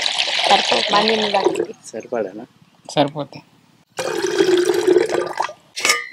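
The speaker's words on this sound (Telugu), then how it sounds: "కుండలో నీళ్ళు పోసుకోవాలి" Water pours into a clay pot in a steady rushing splash that runs for about a second and a half, set between stretches of close conversational talk.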